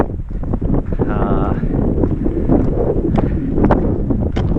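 Strong wind on a cold, exposed alpine trek around Sylarna near the Swedish border roars steadily into the microphone, a constant loud buffeting rush, with faint voices half buried beneath it.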